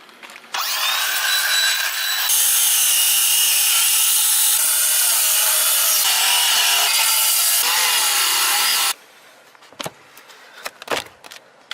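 A power saw cuts into a house roof to open up a beehive, a loud, close, continuous buzzing rasp lasting several seconds before stopping abruptly, followed by a few knocks and thuds.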